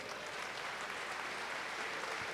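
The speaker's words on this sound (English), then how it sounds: "Let's give Villa a big round of applause." At the Man Up Philly 2020 event, an audience applauds steadily throughout. The clapping sounds fairly faint and distant.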